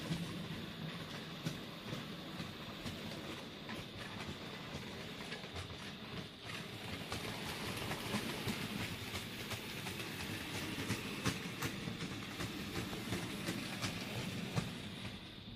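An OO-gauge-style model railway locomotive hauls a couple of Southern Railway coaches around a home layout, giving a steady, continuous rolling rumble with faint rhythmic clicking of wheels over rail joints throughout.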